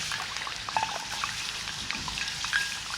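Beef broth pours into a pan at a camp stove, a soft, steady trickle and faint sizzle at low level, with no voices.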